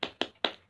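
A classroom of students performs a rhythmic 'tepuk semangat' clapping chant, with three crisp, evenly spaced claps landing close together in a quick pattern.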